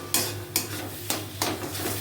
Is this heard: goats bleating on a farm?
no